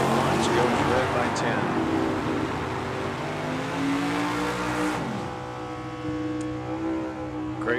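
A 1996 Firebird drag car launches at a drag strip, a loud sustained engine roar with rising revs that fades as the car pulls away, heard over a trackside announcer talking.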